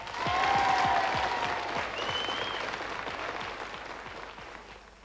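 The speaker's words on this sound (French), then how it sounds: "On l'applaudit très fort parce que quelquefois les candidats sont un petit peu froids." Studio audience at a television game show applauds a contestant, dense clapping swelling early and then holding steady before thinning slightly, with a brief whistle-like tone above it.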